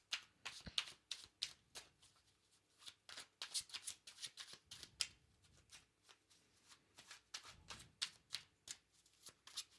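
Intuition cards shuffled by hand in a steady run of crisp riffling flutters and soft slaps, close and clear, with a couple of heavier thumps as cards fall.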